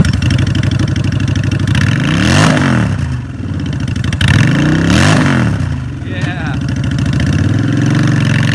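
A used 2013 Honda Shadow Phantom VT750 cruiser motorcycle idles with a steady rumble, then revs twice in strong rising and falling bursts and settles back to idle, loud and close.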